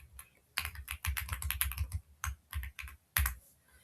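Keystrokes clatter on a computer keyboard as a message is typed, arriving in quick irregular bursts with short pauses between them, close and fairly quiet, with no voices.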